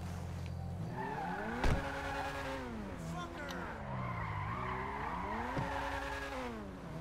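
A car driving and skidding in the GTA V video game: sustained engine drone with rising and falling revs and long tire squeals, steady and loud, with a single thud partway through.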